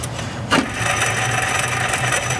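A car engine runs at idle with a worn idler pulley bearing, giving a steady droning whir and grinding hum, close up and unbroken apart from one brief knock near the start.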